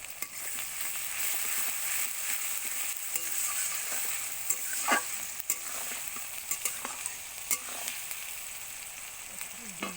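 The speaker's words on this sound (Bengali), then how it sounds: "পেঁয়াজ ভাজা হয়ে গেছে" Onions fry in oil in a pan, a steady close hiss of sizzling with scattered small pops and crackles and occasional stirring scrapes, no voices.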